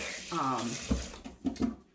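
Hot water runs briefly from a tap while a muffin tin is washed at a kitchen sink, a soft splashing under a voice, with a few clinks near the end.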